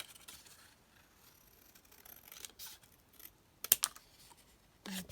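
Paper being trimmed for a handmade folio, heard as faint rustling, then a few crisp snips and cuts close by in an otherwise quiet room.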